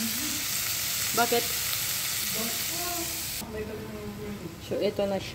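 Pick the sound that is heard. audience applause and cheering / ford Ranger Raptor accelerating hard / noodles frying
noodles frying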